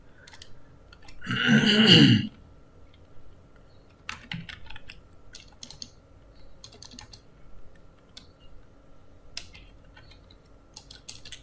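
Computer keyboard typing while entering a title in Microsoft Excel: a short dense burst of rapid keystrokes, then scattered faint clicks and taps over a quiet room.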